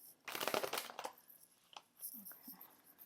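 Tarot cards being shuffled in hand, a dense papery riffling burst in the first second followed by a few softer slides and taps, close and fairly quiet with no talk.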